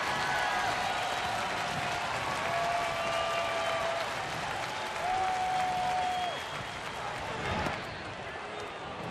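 At a Minnesota–Milwaukee Brewers baseball game in Milwaukee, a large stadium crowd claps and cheers in a steady, distant roar, with a few whistles rising above the din.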